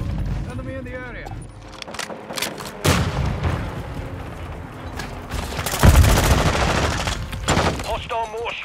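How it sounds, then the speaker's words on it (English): Mortar strike explosions and gunfire crack through a Call of Duty: Modern Warfare II Hardpoint match, loud bursts and booms swelling midway, with radio voices speaking over the battle. "Hostile mortar strike near your position."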